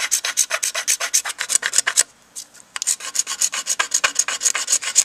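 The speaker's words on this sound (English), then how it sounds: "your scraper is actually getting into the grooves where you need it to get into" A rounded scraper is drawn along an Osage orange longbow stave in quick, rhythmic, close scraping strokes, with one short pause before the strokes resume.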